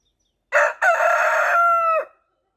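A rooster crows once on a backyard chicken farm, a loud, close call with a short opening note, a brief break, then a long sustained tone that fades out cleanly, with nothing else audible.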